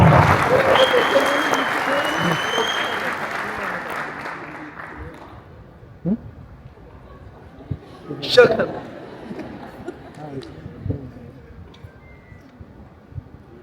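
Applause from an audience at a film launch ceremony, loud and dense at first, then thinning and fading out over about five seconds, followed by quieter room sounds and talk.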